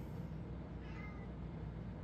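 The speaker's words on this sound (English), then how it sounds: "What you meowing about?" A house cat meows once, a brief faint cry over steady low background noise.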